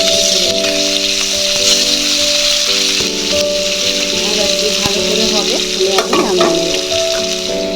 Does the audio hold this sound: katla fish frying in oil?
yes